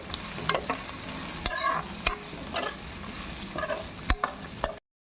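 Grated coconut frying in a pan until light brown, a steady close sizzle broken by sharp scraping stirs of the spoon at irregular intervals, no voices.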